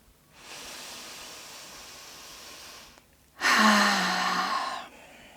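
Two slow breaths with no talk: a soft, airy inhale lasting a few seconds, a brief pause, then a louder, fuller exhale that trails off, close and clear.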